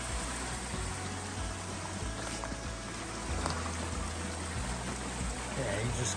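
Creek water cascading steadily down beside the Appalachian Trail in the Smokies, a constant rushing hiss that fills the whole stretch, with low rumbling underneath and no speech.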